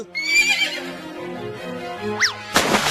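A cartoon horse neighing as it is urged to cross a river, a loud whinny with a rising and falling pitch over background music, followed by a splash-like burst.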